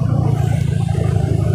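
A Hero Impulse special edition motorcycle with an Akrapovic exhaust rides close behind, its engine giving a loud, steady, throbbing drone.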